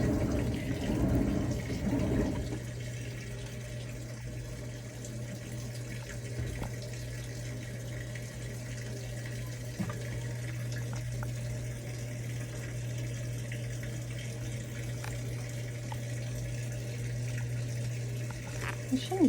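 An impeller washing machine churns water as its bottom spins during a cool fill: a steady sloshing, rushing wash with a constant low motor hum throughout, close and continuous, louder splashing at the start.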